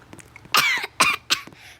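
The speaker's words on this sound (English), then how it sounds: "I need to cough" Three sharp, harsh coughs in close succession from a person nearby, each a loud broadband burst with brief quiet gaps between, no talking over them.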